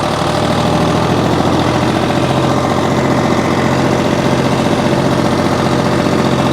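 A John Deere 830 tractor engine pulls an old hay rake, running steady and loud in a slightly too-high gear, with a continuous low throbbing drone and knocking vibration throughout and no voices.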